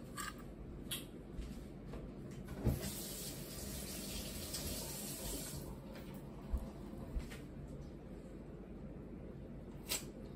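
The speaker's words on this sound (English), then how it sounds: "Let me cut this water off" A kitchen tap runs steadily and faintly while mashed potatoes are prepared, with a few soft clicks and knocks of utensils over the water.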